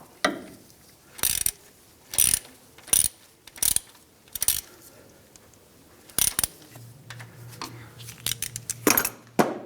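A hand ratchet snugs a 10 mm bolt on a 2003-2011 Honda Element crankshaft position sensor, sounding as short close bursts of rapid clicking, about seven separate strokes, with a brief low hum near the end.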